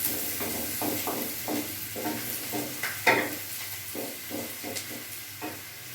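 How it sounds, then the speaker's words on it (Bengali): Onions frying in oil in a pan while being stirred, with rhythmic scraping strokes over a continuous close sizzle. "আমার পেঁয়াজটা ভাজা হয়ে গেছে"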